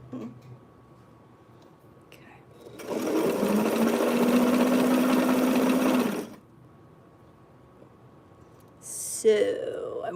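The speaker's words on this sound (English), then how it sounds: "back stitch, and let's sew the seam" A sewing machine runs a steady, fast burst for a few seconds, stitching the seam of a vintage sweetheart blouse, with quiet room tone around it and a short faint voice afterward.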